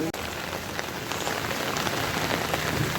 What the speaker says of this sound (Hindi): बड़ी भयंकर बारिश इधर हो रही है